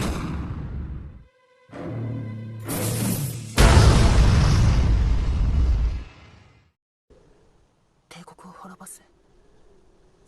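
Anime battle explosions as the hero blasts monstrous abyss creatures one after another: a short boom, then a long roaring blast that fades into quiet, with a few faint bursts later on.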